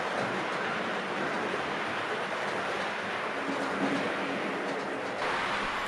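An H0-scale model railway train with a class 120 electric locomotive rolls past, giving a steady, even whirring rumble of small wheels on track. The sound stays at a constant moderate level with a slight shift near the end and no talk.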